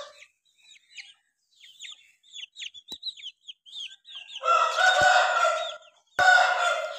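Caged chickens, including a sluggish hen, give a run of short, high clucks and chirps, then two loud, rough crow-like calls near the end, close and without talk.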